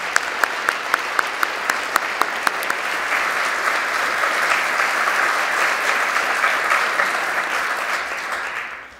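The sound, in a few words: applause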